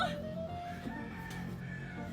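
A chicken clucks faintly in the background over steady outdoor noise, with a few short calls scattered through.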